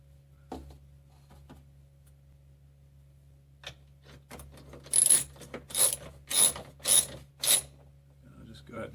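A ratchet driving a 13mm metric socket to tighten a roof rack bolt on a Jeep Wrangler JLU: a few light clicks, then five loud, evenly spaced bursts of ratcheting, close up.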